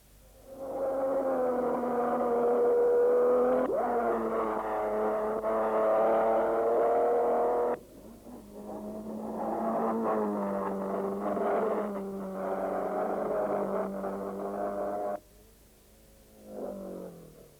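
Racing cars at Le Mans roar past one after another at speed, loud engine drones rising and falling as each car passes, heard alone with no voices.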